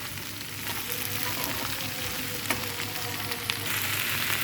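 Potato pieces frying in hot oil in a pan while cooking fish-head and okra-potato curry, a steady dense sizzle that runs throughout with a couple of brief sharper pops.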